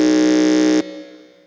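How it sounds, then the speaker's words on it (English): A quiz contestant's buzzer at a junior science and maths championship sounds once as a loud, steady electronic tone for under a second, then cuts off and leaves a fading ring. "Because we need to use the buzzer for this particular round, please try your buzzer"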